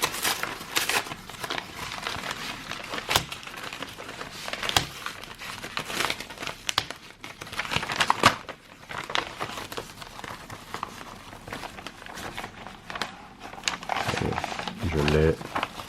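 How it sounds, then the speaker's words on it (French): A paper envelope is torn open roughly by one hand, giving crinkling, ripping paper sounds spread across the clip. Someone talks throughout in French. "ne pas déchirer cette enveloppe comme un sagouin, tel que je m'apprête à le faire, en la déchirant d'une main"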